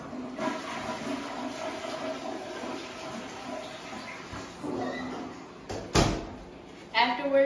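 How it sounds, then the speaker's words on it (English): A toilet flushes in a patient-care setting after a bedpan is emptied, a steady rushing wash of water running for several seconds, followed by a couple of sharper knocks and clatters near the end. "and then I'm going to flush the toilet"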